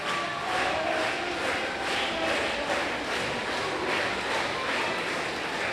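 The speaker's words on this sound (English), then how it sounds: "We got a rowdy crowd here at DBI 6" A rowdy crowd at the DBI 6 wrestling event roars and cheers in a steady, dense wash of noise, loud and continuous, with rhythmic pulsing like chanting or clapping.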